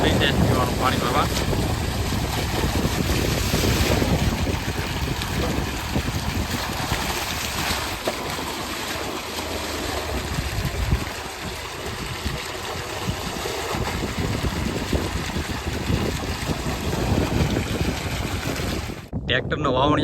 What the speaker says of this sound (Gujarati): મોટર ચાલુ થઈ છે પીવાનું પાણી ભરવા.